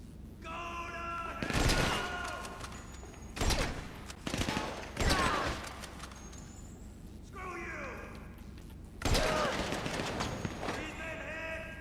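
Gunfire rings out in GTA 5 Online in several separate loud bursts spread across the stretch, with mechanical clicks between them and someone talking quietly underneath.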